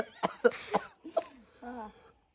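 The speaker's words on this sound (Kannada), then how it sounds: "ಇವ್ರಿಗೇನು ಕೆಮ್ಮು ಬರ್ತಿದೆ" A person gives a short burst of several rough coughs, close and moderately loud, followed by a brief voiced sound at the end, in a village home setting.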